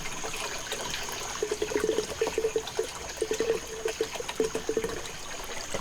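Water gurgling and sputtering as a siphon breaks on a mower's fluid line, a series of wet glugging bursts in quick irregular clusters over a steady low background hiss.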